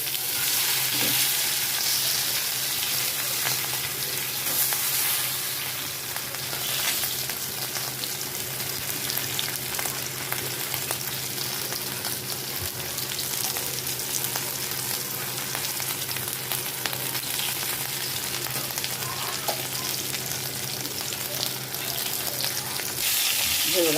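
Pomfret fries in oil with a loud, continuous sizzle and crackle that holds steady for a long stretch, close by and uninterrupted.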